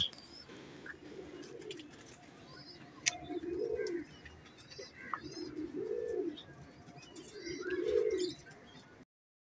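A large female breeder pigeon coos three times at a steady spacing, nearby and moderately loud, over faint background chirping and noise.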